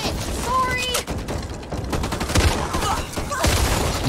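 Gunfire in the video game Back 4 Blood, rapid bursts of loud shots and clattering weapon mechanisms crowding the scene, with a voice speaking over the action.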